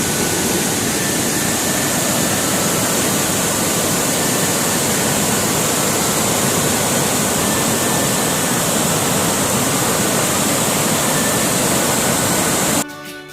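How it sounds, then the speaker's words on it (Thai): Siritharn Waterfall on Doi Inthanon in Chiang Mai roars as a loud, unbroken rushing wash of falling water, close and constant, cutting off abruptly at the end. "น้ำตกสิรินธารสวยจังเลย"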